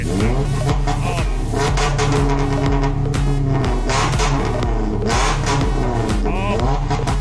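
An aftermarket full-system exhaust with the valvetronic valve open on a third-generation Perodua Myvi produces loud, repeated revs close by, with rising and falling engine pitch in several pulls and a voice speaking briefly over it.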